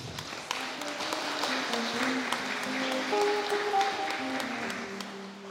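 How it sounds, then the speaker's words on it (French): Applause from a church congregation during a Mass with a choir, steady clapping that runs for several seconds under sustained sung or spoken tones. "Applaudissez-les, s'il vous plaît."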